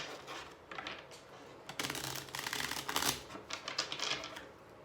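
Tarot cards being shuffled close by, a soft riffling and flicking that comes in bursts, quiet and steady with no one talking.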